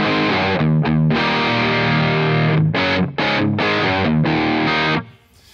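Heavily distorted electric guitar chords through a simulated Mesa Boogie Triple Rectifier amp on channel 3 in modern mode, loud and sustained with several short stops between chugging phrases before ringing out.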